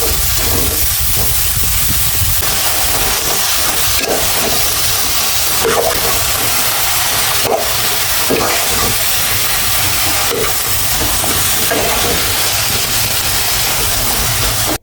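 Ridge gourd with prawns sautéing with spices in a pan, giving a loud, constant steamy hiss and sizzle throughout with faint intermittent clicks, close up.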